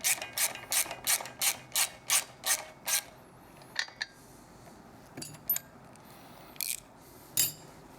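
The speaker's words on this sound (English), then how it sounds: "With your 6mm hex, 12mm wrench, tighten it up." Tightening with a 6mm hex and a 12mm wrench on Triumph shock hardware produces a quick series of about ten sharp ratchet clicks, then a few sparse clicks and light metallic taps.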